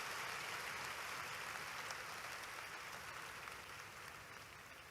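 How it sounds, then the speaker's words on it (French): A church congregation at a sermon by Bishop David Oyedepo claps and cheers for the Lord in a broad, sustained roar of applause that fills the room and slowly fades a little. "Acclamez fort pour le Seigneur."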